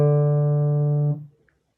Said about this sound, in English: say, an open string sound like this